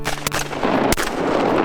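A shotgun fires at ducks in a Mississippi Delta field, two loud sharp blasts about two-thirds of a second apart, each followed by ringing noise and echo over a steady outdoor hum.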